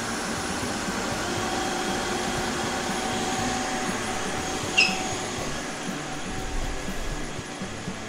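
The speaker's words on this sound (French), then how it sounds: "on va avoir de l'eau qui va être injectée ici. Et le rouleau va tourner d'un sens et de l'autre." Tineco S6 Stretch cordless wet vacuum running its self-cleaning cycle, water injected as the brush roller spins one way then the other; a steady, fairly loud mechanical whir and rumble throughout, with a brief click midway.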